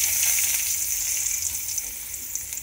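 Chopped onions drop into hot oil with a pinch of turmeric for a tamarind pulusu, giving a steady, close, hissing sizzle that stays fairly even and fades slightly toward the end, with no voices.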